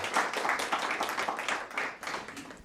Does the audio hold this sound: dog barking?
no